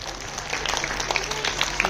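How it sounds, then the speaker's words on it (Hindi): Students at a Republic Day school gathering applaud loudly for classmates, steady massed clapping filling the short stretch, a few sharper claps standing out near the end. "बच्चे जोरदार तालियां बजाकर अपने भाइयों का हौसला उत्साहवर्धन करें।"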